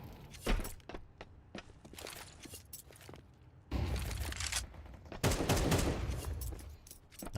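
Rapid rifle fire crackles in a Counter-Strike pro match, loud bursts and single taps over footsteps and game ambience, with no commentary over it.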